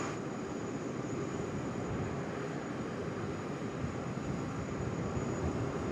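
A Tianjin Airlines A330-200 airliner at Sydney Airport gives a steady, broad jet roar that holds evenly at moderate loudness throughout, with a faint high whine on top.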